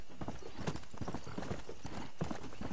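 In the video game Red Dead Redemption, a horse's hooves clip-clop in a quick, steady galloping rhythm, close and continuous throughout.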